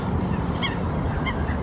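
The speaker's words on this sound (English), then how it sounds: "Very peaceful there though, just hearing the birds and a slight bit of road noise in the background." Geese honk twice at a lake on a winter day, sharp calls over a steady low rumble of distant road noise and outdoor ambience.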